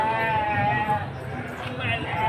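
Jawa Randu goats bleat at a crowded livestock market, wavering cries repeating over a dense background of crowd murmur and nearby talk.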